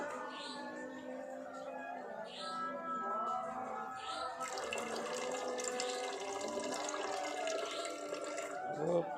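Liquid from a failed aqua regia solution is drained off, a steady watery pour with running-tap texture that grows fuller and brighter midway, continuing close by.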